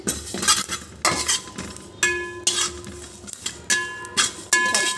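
Cumin and ajwain seeds dry roasting in a pan, with repeated sharp scraping and clinking strokes of a metal spoon against the pan in an irregular stirring rhythm, near and clear.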